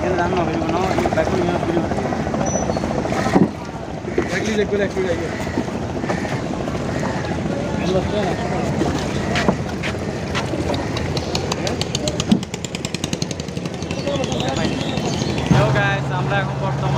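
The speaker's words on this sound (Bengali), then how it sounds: "মেশিনের সাউন্ডের কারণে হয়তো কিছু শোনা যাচ্ছে না" A boat's engine drones loud and steady on the Karnaphuli River in Chittagong, a rumbling motor running throughout with people talking over it and a few thumps and shifts in the noise.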